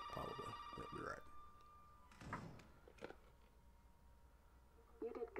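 A telephone rings inside a Resident Evil 7 game scene, a steady tonal trill that comes in repeating bursts at first, then fades, with occasional thuds and scraping later on.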